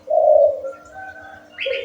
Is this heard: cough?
no